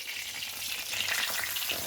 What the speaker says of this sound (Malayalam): മീനെടുത്ത് ചട്ടിയിലിടമ്മ.